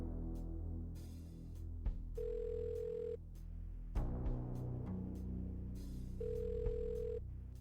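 Telephone in the video game Kathy Rain 2, with ringback tones sounding twice as separate sustained beeps of about a second each, over a low steady background hum with no talk.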